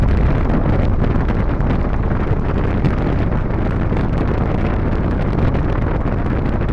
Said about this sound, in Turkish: Fena bir rüzgar var.